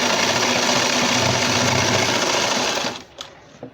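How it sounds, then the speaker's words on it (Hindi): A sewing machine stitches a churidar pajami fabric joint in a steady, loud, continuous run, then stops near the end, leaving a few faint handling clicks. "इस तरह से पूरा हम सिलाई करते चले जाएंगे।"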